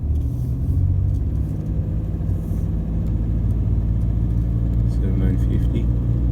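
A Toyota Hilux diesel engine idles with new injectors fitted, giving a steady low rumble that holds evenly throughout, with faint background voices underneath.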